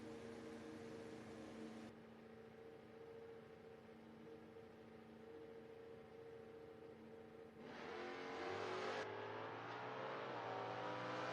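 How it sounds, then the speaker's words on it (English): A Gremlin and a 2014 COPO Camaro drag race at a footbrake drag event, with a steady engine drone that swells into loud, rising revving near the end. "We got ourselves a drag race."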